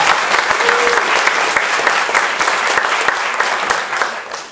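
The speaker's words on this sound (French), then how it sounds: "Merci, on peut l'applaudir" Sustained applause from an audience at a climate seminar, many hands clapping steadily and fairly loud for several seconds, slowly thinning toward the end.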